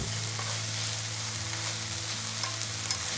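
Kimchi and pork stir-frying in a pan: a steady, close sizzle with a few soft clicks of stirring, and no voice.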